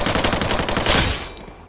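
Rapid automatic gunfire from the battle royale game Free Fire MAX, a dense burst of shots fired from a distance that rings out loudly and then fades.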